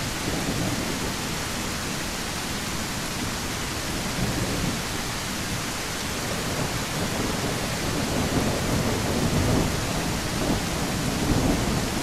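Steady rain falls in the Trailcam video game, a dense, even wash of noise that holds close and fairly loud for the whole stretch, with a low rumbling undertone like distant thunder and no voices.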